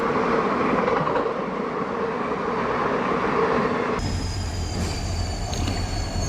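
The Dadar–Chennai Egmore Express passenger train rumbles past close by in India with steady wheel noise and metallic squeals, the tone shifting abruptly midway as different cars go by.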